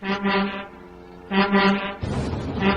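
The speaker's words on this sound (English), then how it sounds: "That foghorn is so loud that it's rattling my dome" A deep, loud foghorn blasts twice, each long droning tone separated by a pause, with a rougher noisy burst near the end.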